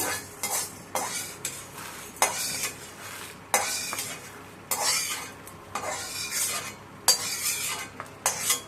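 Roasted black gram being scraped and tipped from a pan onto a plate: bursts of dry rattling and metal spoon scraping come in irregular clusters, close by and fairly quiet, with no talk.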